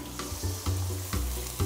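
Water is poured into a hot pan of stir-fried pork ribs with chopped scallion and garlic, giving a loud, steady sizzle that swells in several bursts, close up, with no talking.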